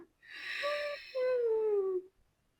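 Ujjayi pranayama breath pushed through a constricted throat, two long airy wheezing breaths, close and fairly faint, with a rising tonal edge in the first and a long falling tone in the second.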